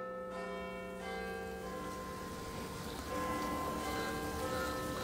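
A clock bell in The 39 Steps, set in London in 1914, chimes the hour with resonant strokes whose sustained tones overlap and linger over a soft hiss.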